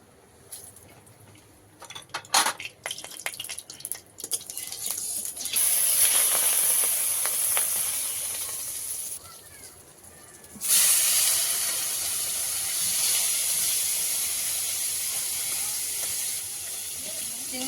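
Loud sizzling hiss of marinated prawns frying in hot mustard oil in a wok, starting after some clatter, pausing briefly, then resuming strongly and steadily.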